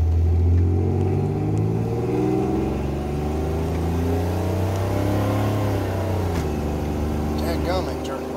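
A 1987 Chevrolet Celebrity Eurosport with a 2.8 V6 accelerates from about 55 mph in overdrive, the engine drone rising steadily and loud from inside the cabin with wind noise around it.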